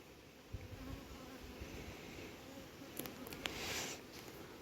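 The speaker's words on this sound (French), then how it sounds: "ça dérange pas les abeilles. Hein, elles bossent." Honeybees at an apiary buzz in a soft, continuous drone, fairly quiet and steady, with a few small clicks and knocks partway through.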